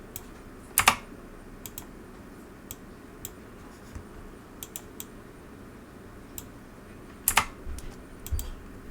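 Computer mouse clicks while design software is in use: sparse, crisp, close clicks at irregular intervals over a quiet room background, with two louder clusters of clicks.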